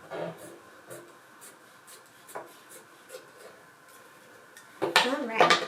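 Scissors cut through folded fabric along a marked line to make a wrist cuff for a ruffled collar: faint, scattered scraping snips close by, ending in a louder burst of rustling and crinkling.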